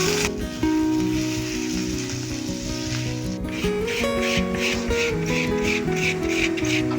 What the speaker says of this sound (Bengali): তেলটা গরম হয়ে গেছে, দিয়ে দেবো একটু জিরে আর কাঁচা লঙ্কা কুচুনো